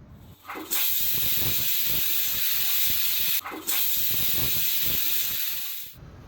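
A pressure cooker on the stove cooking tomato bath lets off loud, continuous hissing steam bursts with a shrill whistle, broken once by a brief pause before the steady rushing jet resumes and then cuts off.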